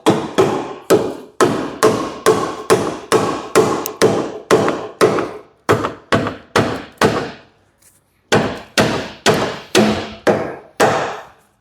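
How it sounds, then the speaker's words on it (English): A dead blow hammer taps a rear axle arm on an MK7 Ford Fiesta into place in rapid, evenly spaced hard strikes, about two dozen in all, loud and close, with a short pause before a final run. "I'm just going to get the dead blow hammer now"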